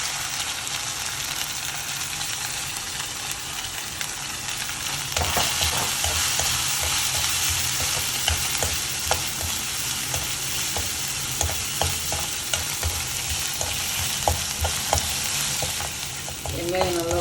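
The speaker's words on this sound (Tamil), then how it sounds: "வெங்காயம் நல்லா வதங்கிடுச்சு" Chopped onions sizzling in hot oil in a pan for mushroom biryani, a constant loud frying hiss with repeated scraping clicks of a spoon stirring throughout.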